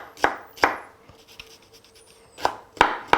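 A knife chops a shallot finely on a cutting board: two crisp chops, a pause filled with soft light taps, then three more sharp strokes close by in a quiet kitchen.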